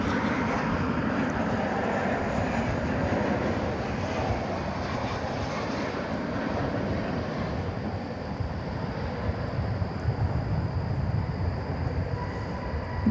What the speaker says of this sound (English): You're seeing American Flight 789 arriving from Austin